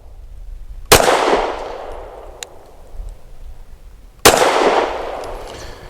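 Two loud, sharp shots from a Springfield Armory HS Produkt Echelon pistol sound about three seconds apart, each followed by a ringing outdoor decay.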